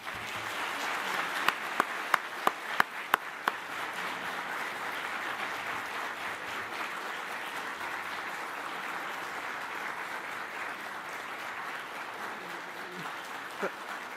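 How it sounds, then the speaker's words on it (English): A large audience at a university graduation ceremony applauds its families, friends and teachers, a sustained, fairly distant wash of clapping that holds steady for the whole stretch, with a few loud, close individual claps early on. "give a huge round of applause to your families, your friends, your teachers, and everybody who has supported you along the way"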